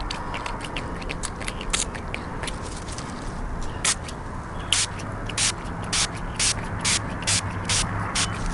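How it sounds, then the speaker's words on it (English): Duracoat glass ceramic coating is sprayed onto an applicator pad for car glass, a series of short hissy spray bursts, sparse at first then coming in a quicker, regular run of close, crisp puffs. "you take the applicator pad that is provided from Duracoat, and you just will spray"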